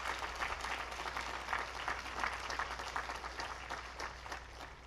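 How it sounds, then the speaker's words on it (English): Applause for parents and family at a high school graduation ceremony, a steady wash of clapping from a crowd, distant and fairly quiet, continuing throughout. "let's give a round of applause for all of the parents and family members here"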